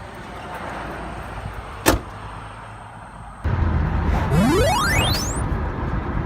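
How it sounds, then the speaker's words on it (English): Interior of a police car driving, with steady road and engine rumble, a sharp click near two seconds, then rising electronic chirp sweeps as the noise swells; no talking. "we're driving in the car right now"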